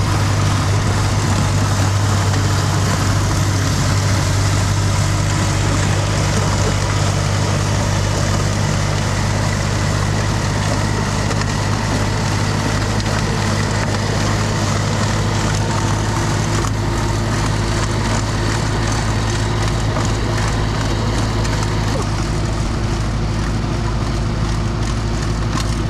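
A tractor engine runs steadily and loudly throughout, its deep, even drone carrying over snowy ground after a big snowstorm, with no pauses and no voices.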